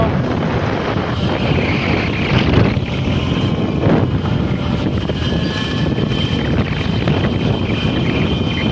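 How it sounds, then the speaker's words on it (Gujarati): Strong wind blowing through a village where cement roofing sheets are being fitted on a shed, a loud, gusting rumble that swells and eases continuously without any voices. "હાર્દિક પવનની મોજ લે છે."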